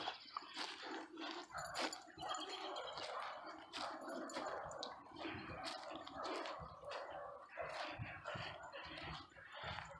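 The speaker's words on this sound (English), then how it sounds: "She's chewing on her bone." A dog gnaws on a bone outdoors during a woodland walk, producing steady wet chewing, gnawing and crunching sounds up close throughout.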